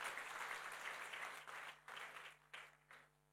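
Church congregation applauding, dense crowd clapping that fades out into a few scattered final claps, fairly faint and distant.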